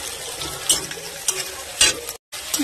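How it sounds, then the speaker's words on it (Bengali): Chopped onions frying in oil in a wok, a steady close sizzle broken by a few sharp scraping stirs of a spatula, with a brief dropout near the end. "পেঁয়াজটা একটু ভেজে নেবো"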